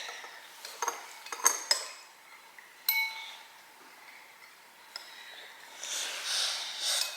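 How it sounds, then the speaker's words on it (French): A child stirring chocolate cake batter in a bowl with a spoon, producing scattered light clinks and scrapes of metal against the dish, with soft breathing and a faint hiss toward the end. "Tu mélanges avec ta cuillère, bonhomme."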